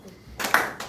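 A class of students claps once together in a single short burst, close and moderately loud, at the end of a lesson on borrowing and credit products.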